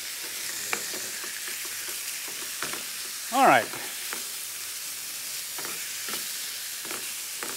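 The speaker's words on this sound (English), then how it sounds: "That's just sizzling away nicely." Food fries in a pan with a steady, soft sizzle and crackle, while a person briefly speaks over it and a short clatter of a spatula or utensil sounds midway.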